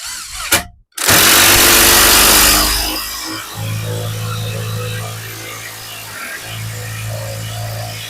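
A Grosser GID 230N cordless impact wrench drives a bolt: a sharp burst at the start, then a steady loud motor whine with rapid hammering that runs for several seconds, pauses briefly and resumes.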